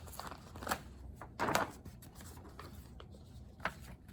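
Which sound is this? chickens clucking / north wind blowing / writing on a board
writing on a board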